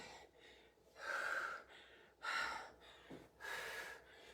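Heavy breathing during a cardio HIIT workout: four loud, rhythmic exhales about a second apart, close and alone with no talk.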